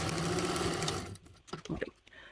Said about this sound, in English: we've just finished sewing up those long edges on the sewing machine